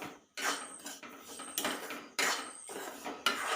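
Sugar is mixed into sweet samosa filling in a pan, heard as close, distinct scraping and clattering strokes of a spoon at an uneven rhythm, with brief quiet gaps between them.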